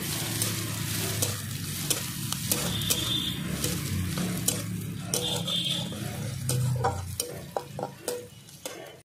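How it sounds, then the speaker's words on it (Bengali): Chopped garlic with slit green chillies frying in a pan until reddish, a steady close sizzle with scraping stirs and occasional sharp clinks of a utensil against the pan. "একই সঙ্গে একটু লাল লাল করে ভেজে নেব প্রথমে।"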